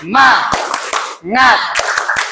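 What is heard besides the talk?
class clapping a rhythmic spirit clap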